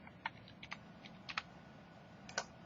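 Typing on a computer keyboard, a handful of soft, irregular key clicks in small bursts, faint and close, over quiet room noise.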